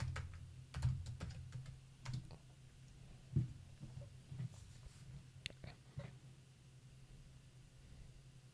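Computer keyboard typing while updating a Supermicro SuperServer BIOS: a short cluster of close key clicks and a firmer keystroke, then quieter, sparser taps over a steady low electrical hum.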